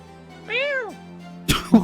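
A person imitates a cat's meow with a single rising-and-falling vocal meow during a casual online board game session, followed by brief talk and laughter.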